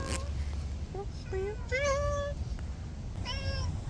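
A cat meows several times, close and clear, with rising and falling cries spaced across the clip over a low background hum.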